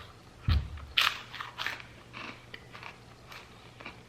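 Freeze-dried astronaut strawberries crunch between the teeth, with one sharp bite followed by a string of crisp, brittle chewing crackles, close and fairly faint.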